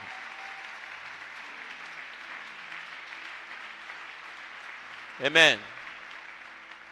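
Congregation applauding at a Pentecost church service, a steady sustained wash of clapping throughout, with a voice speaking over it and a brief loud exclamation near the end.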